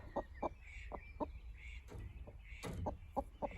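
A hen clucks nearby in short, repeated bursts while picking a fight with other hens, a quiet, choppy series of clucks with a few louder squawks.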